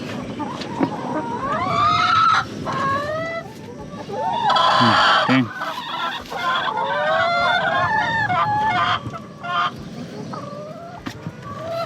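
Laying hens on a farm clucking and squawking continuously, several birds close by with rising calls overlapping, and people talking underneath.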